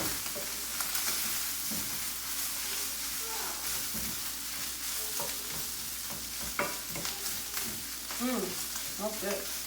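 Thyme cooking in a pan over high heat, a steady sizzle with stirring scrapes and clinks, while voices talk faintly at times alongside the frying.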